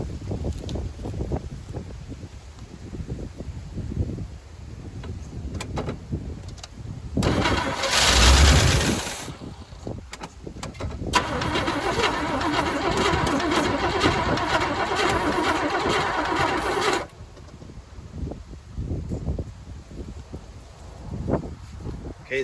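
A 1985 Chevy C10 square body truck engine cranks and fires up, then runs at a rough roar for several seconds before dropping off, recorded close outdoors with heavy wind buffeting the microphone.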